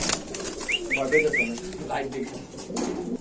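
Active male and female pigeons in a loft make brief chirps and short cooing calls, mixed with faint wing rustles and background voices.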